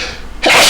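A single sharp sneeze bursts out abruptly after a brief quiet breath, loud and close.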